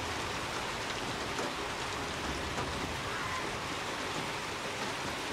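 Heavy in-game rain pours steadily over an open area in Hunt: Showdown, a dense continuous hiss with no clear speech over it.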